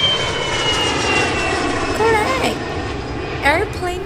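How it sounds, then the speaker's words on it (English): An airplane flies by with a loud, steady engine drone and a high whine, while speech is heard briefly near the end. "Airplane flyby."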